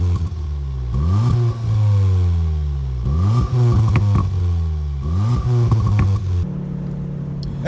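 A VW Golf R Mk7.5 revs hard through its four oval-tipped exhausts, rising and falling in about four loud sweeps before settling to a steady idle, close to the rear with no talking.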